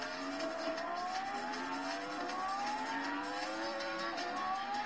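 A car engine in the Roblox game Vehicle Simulator revs continuously, its pitch climbing repeatedly through gear changes, loud and unbroken for the whole stretch, with the synthetic evenness of a racing game.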